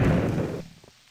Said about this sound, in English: heard that explosion sound in forever